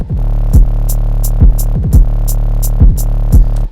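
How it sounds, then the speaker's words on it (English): A plump 808 bass sample playing in an electronic drop: deep, booming sustained sub-bass notes with punchy attacks, repeating in a steady pattern alongside crisp hi-hat ticks, loud and alone. "This is one of my plump 808s called the Plumpy 808."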